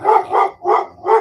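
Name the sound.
dogs barking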